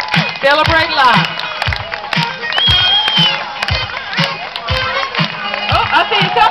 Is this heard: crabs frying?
no